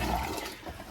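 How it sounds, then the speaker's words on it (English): A boat's marine toilet pump set to flush draws antifreeze from a bucket through the bowl, giving a short, close gurgling whoosh of liquid that fades slightly over one second. "So I've switched it to flush, which means right now it would normally be sucking water out of the"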